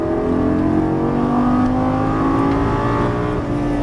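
Lamborghini Gallardo LP550 accelerating out of a turn on a track, its engine note rising steadily into a loud, sustained roar heard from inside the car.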